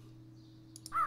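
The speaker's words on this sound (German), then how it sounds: "Ich habe einen Rabe gefunden." A raven caws once, sharp and fairly close, at the end of a short stretch of low game hum and faint chimes in Minecraft, modpack Project Ozone.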